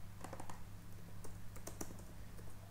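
Rapid typing on a computer keyboard, a close, steady patter of light key clicks with a few slightly louder keystrokes, heard alone without any talk.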